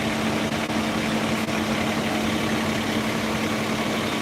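A fire engine idles steadily at a fire scene in Maple Grove, Minnesota, a constant low diesel rumble with a droning hum, close and unbroken, with no talk.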